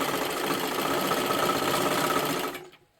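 A sewing machine stitches silky fabric with lining in one steady, continuous mechanical whir, close and loud, before stopping abruptly near the end.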